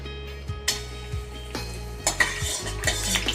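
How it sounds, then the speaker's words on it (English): Star anise and Szechuan pepper fry in oil in a wok, a soft sizzle broken by several sharp metallic knocks and clatters of a utensil against the wok, close by. "So star anise and the Szechuan pepper or the pepper is in the oil."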